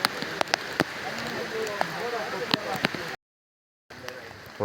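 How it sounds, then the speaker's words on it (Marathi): Steady patter of heavy rain on Raigad Fort falling on a surface with occasional sharper drips, a voice speaking over it, and a brief total dropout partway through. "काही दिसतच नाही एवढे ढगाळल्यात आणि जोरदार पाऊस चालू झालेला आहे"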